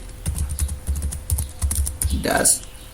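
Keys clatter on a computer keyboard as a Linux command is typed, a quick run of close, crisp taps ending in a firmer keystroke.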